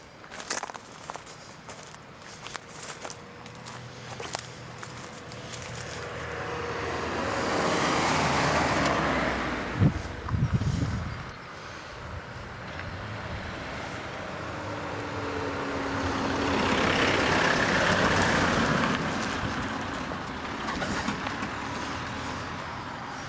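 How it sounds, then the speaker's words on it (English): Vehicles pass on a road during a countryside walk between Eastleigh and Shawford: two separate swells of tyre and engine noise build, peak and fade, with quieter stretches of outdoor ambience between them. "Oh, we've got vehicles coming."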